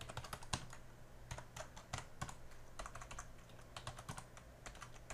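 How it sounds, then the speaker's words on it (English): Scores are typed into a spreadsheet on a computer keyboard, with quick irregular runs of close, crisp key clicks and short pauses, quiet and with no talking. "I'm going to pause here and continue typing these scores in"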